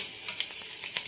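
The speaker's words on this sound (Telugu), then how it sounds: "ముందుగా స్టవ్ ఆన్ చేసి లో ఫ్లేమ్లో పెట్టుకొని ఆయిల్ పోసి అందులో చెక్క, అనాస పువ్వు వేయాలి." Cinnamon, star anise and garlic fry in oil on a low flame, giving a soft, steady sizzle with a few brief crackles and pops, close and without talk.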